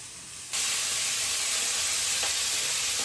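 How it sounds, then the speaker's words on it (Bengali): Eggplant frying in a pan, a quieter hiss that jumps after half a second into a loud, steady, close sizzle that holds to the end. "এই যে বেগুনটি ভাইজা নিতেছি"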